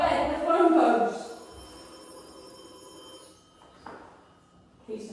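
A house telephone rings with a steady electronic trill, heard from another room at moderate distance, continuing for a few seconds in an otherwise quiet home.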